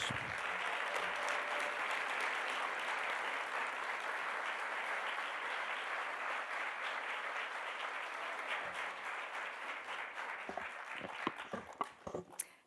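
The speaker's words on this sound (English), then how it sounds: "let's give them all a huge round of applause" Loud, sustained applause from a plenary audience greeting honorees fills the room for about eleven seconds, then tapers into scattered individual claps and fades.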